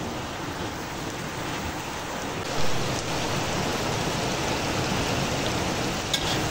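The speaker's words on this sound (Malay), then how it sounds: "Okey, hujan telah turun dengan lebatnya." Steady, dense downpour of heavy rain, a constant broadband roar with no voices, briefly swelling once midway.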